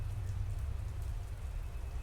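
Heavy rain falls in a dense, steady downpour, a continuous loud hiss with a deep low rumble and no pauses.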